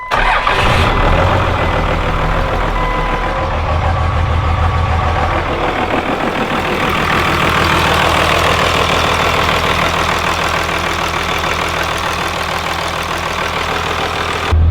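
Engine starts and runs steadily after a swap to 275 horsepower injectors, a loud continuous mechanical roar with a knocking rhythm near the microphone, filling the whole span with no talking.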